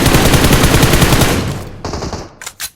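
Sustained automatic gunfire in the battle royale game BGMI, a loud continuous burst of rapid shots that tapers off, followed by a few scattered single cracks near the end.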